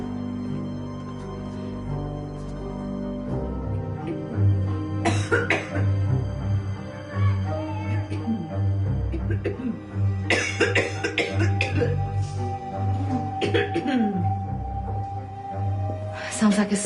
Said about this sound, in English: Sounds like a smoker's cough.